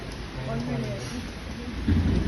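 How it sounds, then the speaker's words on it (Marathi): Light rain falls during a motorcycle ride toward Malshej Ghat, heard as a steady, dense hiss mixed with wind rush. A muffled voice briefly sounds underneath. "पाऊस पण लय जोरात आहे. जोरात नाही, बारीकच आहे."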